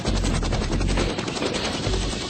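Loud, rapid chopping rotor thumps from a Bell Cobra attack helicopter close overhead, dense and continuous with a roaring engine underneath.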